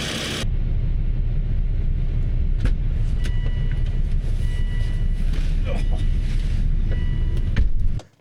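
A 2006 VolvO XC70 on the road after a radiator replacement, giving a steady, loud low cabin rumble of engine and road noise that runs unbroken for about eight seconds before cutting off abruptly.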